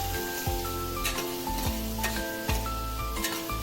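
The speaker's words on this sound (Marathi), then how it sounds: "आता टोमॅटो टाकून चांगलं परतून घेते" Tomatoes sizzle steadily with masala in a hot pan while being sautéed for a sprouted moth bean curry, a continuous crackling fry broken by periodic stirring scrapes, close up, with background music and no talking.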